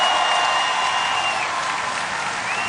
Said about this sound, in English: Can we give him a round of applause right now?